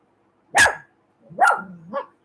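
A dog barks at fireworks set off by a neighbor, giving three sharp, close barks in quick succession, the last one shorter, with silence around them.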